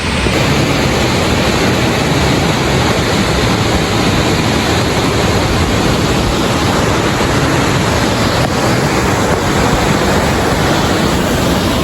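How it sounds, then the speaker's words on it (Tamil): Jog Falls in Karnataka roars as a loud, continuous wall of rushing water that keeps a steady level throughout, with wind buffeting the microphone and no voices heard. "வேர்ல்ட் ஃபேமஸ் ஜாக் ஃபால்ஸ் வந்தாச்சு"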